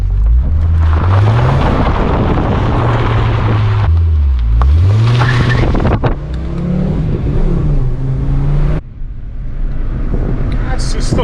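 A 2.5-liter five-cylinder VW Golf drives and accelerates, its engine note rising and falling through gear changes, loud and close inside the cabin.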